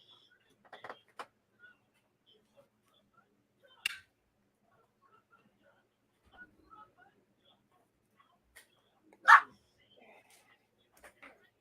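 A dog gives a few short, sharp barks and yips spread across a quiet stretch, with one louder bark near the end, amid sparse background sounds.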